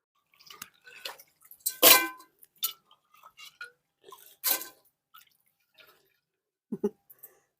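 Crab pieces being washed in water, heard as sparse, intermittent splashes and drips, with a couple of louder sloshes standing out against near silence.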